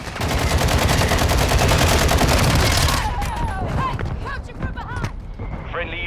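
A mortar strike in the Call of Duty: Modern Warfare II video game sets off a dense, loud barrage of rapid blasts and gunfire for about three seconds, then scattered fainter shots and game effects follow.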